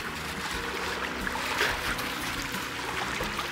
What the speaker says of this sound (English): So there's the river that waterfall is on.